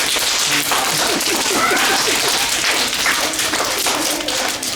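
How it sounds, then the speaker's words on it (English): A quick run of sharp, sticky-sounding hand claps with hands covered in donut glaze and powdered sugar, in a rapid rhythm, close and loud over a bright, noisy background. "that's how you do the donut clap"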